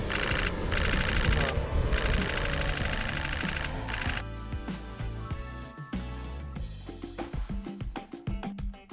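A Nikon D6 camera firing a rapid shutter burst at close to 14 frames per second, a fast mechanical clatter of closely spaced clicks, loud and close, with a noisier stretch at first before the clicks stand out alone.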